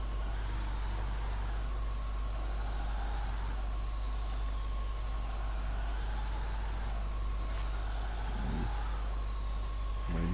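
Kamaz-54112 six-wheel-drive truck in Spintires grinding over bumpy terrain with a steady, loud engine drone and whining gears.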